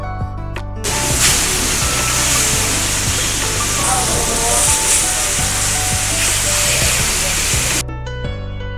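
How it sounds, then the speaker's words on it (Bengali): Rupchanda fish frying in hot mustard oil in a pan on a stove at Mawa ghat: a loud, steady sizzling hiss starts after about a second, runs unbroken for roughly seven seconds, then cuts off. "চুলার গরম কড়াইয়ে সরিষার তেলে রূপচাঁদা মাছ ফ্রাই করার জন্য ছেড়ে দেওয়া হয়েছে"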